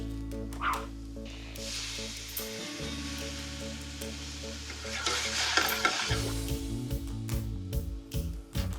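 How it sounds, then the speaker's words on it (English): White wine goes into shallots in a completely dry pan, giving a brief surge of hissing sizzle that fades, heard under steady background music with a few faint utensil clinks. "You start with some shallots in a completely dry pan. We can add a little bit of white wine."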